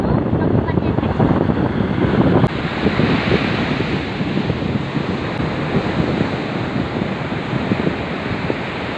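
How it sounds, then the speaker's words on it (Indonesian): Waves wash onto the beach at Kampung Nasragam in Muara Batu, Aceh, a steady broad roar of surf with wind buffeting the microphone, continuous and close. "Guys, ini pantai Kampung Nasragam, Kecamatan Muara Batu, Kabupaten Aceh."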